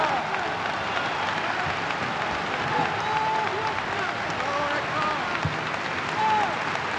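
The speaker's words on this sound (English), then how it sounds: "You all should stand up on your feet and cheer for women." Crowd applause with scattered cheers from a large audience at a speech about violence and Black identity, a steady dense roar of clapping that holds at even volume throughout.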